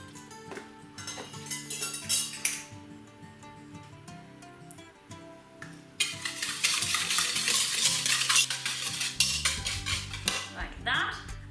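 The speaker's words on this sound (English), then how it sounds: "I'm just going to whisk my sugar and my egg yolks together" Sugar and egg yolks are whisked together in a bowl, the whisk clinking and rattling against the sides in bursts that grow busier and louder partway through.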